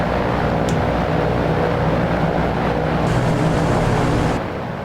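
Loud, steady drone of Boeing B-17G bomber engines in Flight Simulator 2024, a dense continuous roar with low throbbing beats that holds for nearly five seconds, then eases slightly at the end.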